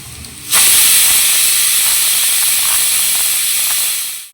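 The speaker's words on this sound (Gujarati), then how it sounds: "હવે કુકર લગાડી અને આપણે 2 સીટી પાડી લેશું, હવા ભરીને ઉતારી લેશું." A pressure cooker cooking chicken and potato curry lets out a loud, continuous steam whistle that starts abruptly and holds steady as a strong hiss for several seconds before cutting off.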